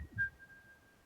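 A person whistling in imitation of a bird's song, a single brief high steady whistled tone, quiet and close, with a soft low thump at the start.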